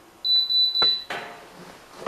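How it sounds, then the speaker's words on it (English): An EdenPure heater that will not power on gives three quick high-pitched electronic beeps in a row, followed by a few soft clicks and handling knocks, close up in a quiet room. "3 beeps."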